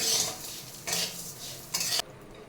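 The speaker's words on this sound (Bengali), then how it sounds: "এবার গোবিন্দভোগ চালটা দিয়ে দিচ্ছি। এটা একটু ভেজে নেব চালটা।" Gobindobhog rice dry-fried in a pan, a spatula scraping and stirring the grains in three close bursts over a faint sizzle, with no talking.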